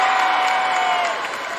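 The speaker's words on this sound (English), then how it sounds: "there you hear the crowd reacting as Shaylin Pickney receives her medal" A crowd at a girls' Class LL state championship final reacts as a player receives her medal, a sustained roar of applause and cheering that is fairly loud and steady throughout.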